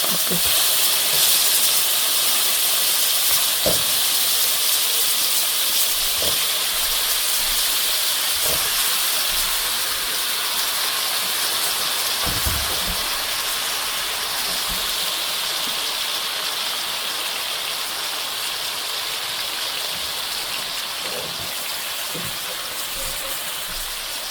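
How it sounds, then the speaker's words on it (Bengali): Shrimp, the smaller kind meant for a malai curry, fry lightly in hot oil with a steady, bright sizzling hiss that holds the whole time, speckled with small pops and crackles. "এখন এটা তেলে দিয়ে একটু হালকা ভেজে নেব।"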